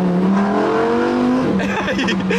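A Lamborghini engine revs up with a rising, loud whine that climbs steadily, then breaks into rougher roaring noise near the end, close and dominant.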